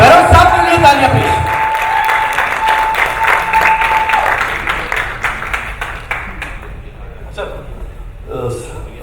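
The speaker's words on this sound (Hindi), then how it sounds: "सर प्लीज, बेरोज साहब के लिए तालियां प्लीज।" Applause from an audience at a film trailer launch event, with dense clapping under someone talking over a microphone. It thins into scattered claps and then fades out.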